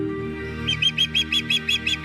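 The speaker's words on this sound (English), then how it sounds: "the pristine mangroves bordering the lagoon welcome a multitude of nesting birds" Nesting birds in mangroves bordering a lagoon give a rapid series of about nine evenly spaced, bright chirps. The calls are clear and fairly close over a faint steady background, with no talking.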